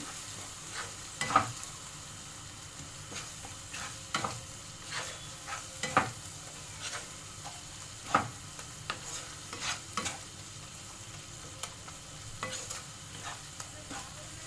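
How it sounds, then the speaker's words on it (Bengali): Palak paneer masala with salt sautéing in a pan, a soft continuous sizzle broken by repeated spatula scrapes and knocks at irregular intervals, fairly quiet and close, with no talking. "ভালো করে কষিয়ে নেব।"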